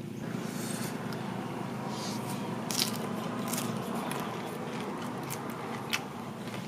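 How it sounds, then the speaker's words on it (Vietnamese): Crunchy roast pork skin, dipped in salt, chewed close to the mic, giving a continuous dense crackle of bites and munching with sharper snaps near the end. "nghe được cái tiếng giòn giòn mà nó đá lắm, nó lên tới tận tai luôn á"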